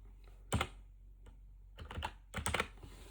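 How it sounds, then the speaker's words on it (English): A few short bursts of typing on a computer keyboard while working in Microsoft Word: a single clack, then two quick clusters of key presses, close and fairly faint over a quiet room. "I'm going to type in letter."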